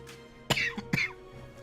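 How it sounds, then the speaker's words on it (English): Two sharp, close coughs about half a second apart, from someone suffering acid reflux while playing Valkyria Chronicles 4, with no talk over them. "Having an acid reflex and I'm having a cough."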